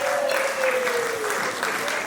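Applause for the children at a birthday party, a steady wash of clapping heard from a middle distance, with a sustained tone running underneath.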